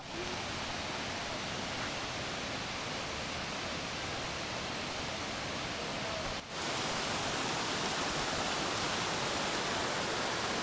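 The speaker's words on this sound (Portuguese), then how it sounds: "Olha o barulho de cachoeira já." A waterfall on Koh Phangan, Thailand, rushes in a constant, even roar of falling water, loud and unbroken throughout, with no talking.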